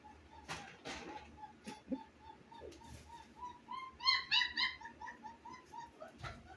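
A dog lets out soft, high whimpers and yips in short bursts, with some scattered background noises in between.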